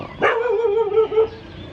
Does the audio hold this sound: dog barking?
yes